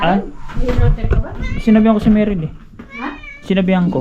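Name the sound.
pet cat Yuki meowing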